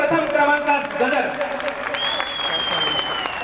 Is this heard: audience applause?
yes